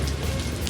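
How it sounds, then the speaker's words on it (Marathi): Light drizzle over a city, a dense soft hiss of small drops, even and continuous for a brief moment with no voices. "पावसाची रिपरिप सुरू आहे"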